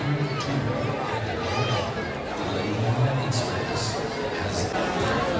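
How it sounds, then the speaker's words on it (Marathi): A dense crowd packed into a railway station, a steady roar of overlapping voices and bustle all around, with nearer people talking through it. "मित्रांनो स्टेशनवर बघा तुफान गर्दी आहे"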